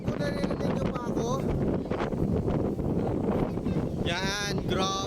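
Strong wind buffets the microphone by the sea among the windmills in Ilocos Norte, a continuous roaring rush with faint voices surfacing briefly near the end.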